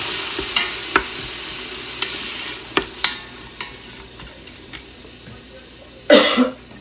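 Frozen peppers stirred in a hot frying pan, a soft sizzle under sharp intermittent clacks of a utensil against the pan, with a short cough near the end.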